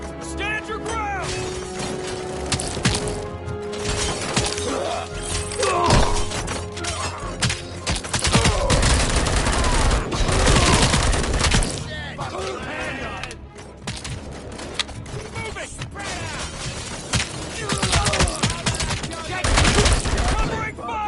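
Rapid gunfire in the RoboCop: Rogue City video game: dense automatic bursts and single shots with crashing impacts and breaking debris, loud and near, swelling and dipping in waves, while voices shout during the fight.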